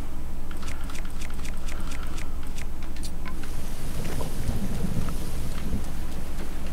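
Rain in The Legend of Zelda: Breath of the Wild, a dense continuous pour with a low rolling rumble of thunder, plus scattered sharp clicks early on, loud and alone without voices.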